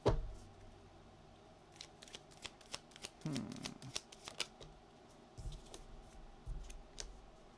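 Tarot cards being shuffled by hand, close and quiet: a soft riffle followed by crisp, irregular flicks and snaps of the cards, with a few low thumps as the deck settles.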